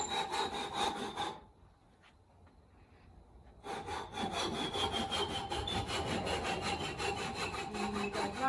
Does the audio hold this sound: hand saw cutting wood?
yes